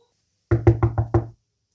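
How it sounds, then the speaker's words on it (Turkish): Five sharp, evenly spaced knocks on a classroom door ring out close and loud in quick succession, with silence before and after. "Hocam kapı çaldı."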